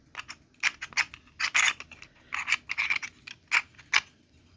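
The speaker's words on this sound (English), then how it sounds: "now these gears are not the smoothest gears" Plastic gears from an electromagnetism kit motor grinding and clicking in short, uneven bursts, with a scratchy, rasping friction sound up close and no voices.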